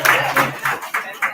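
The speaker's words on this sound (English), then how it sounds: "Let's give a round of applause." An audience at a motivational gathering applauds for the seniors who came: a short, close burst of hand claps falling in a quick, fairly even rhythm, with voices faintly mixed in.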